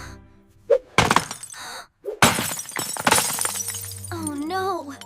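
An object slips and glass breaks with a sharp crash and scattering shards, following a brief thud, set among short bursts of talk and an exclamation.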